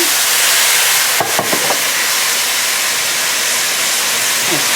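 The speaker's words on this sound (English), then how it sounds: "I'm going to deglaze the pan with a little red wine." A pan of Italian-style chicken is deglazed with red wine and hisses loudly, a dense, continuous sizzle close up. A few faint clinks of scraping come early on, and no one speaks.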